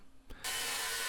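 A power saw plunges into wooden planks for a chicken coop build, starting with a brief click and then a sudden loud, continuous whine close by.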